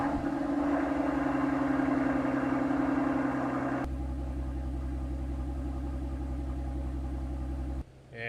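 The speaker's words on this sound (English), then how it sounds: "First thing we want to do is start the car up, get it to operating temperature." Mercedes S65 AMG V12 (M275/M279) idling while warming up to operating temperature, a steady close rumbling idle that drops to a deeper, smoother tone partway through before cutting off near the end.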